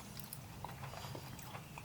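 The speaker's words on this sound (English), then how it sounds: "Definitely some good crunch." Close, crisp crunching and biting as a crunchy raspberry Kit Kat Dubai chocolate wafer bar is chewed, with small irregular cracks over a low steady background.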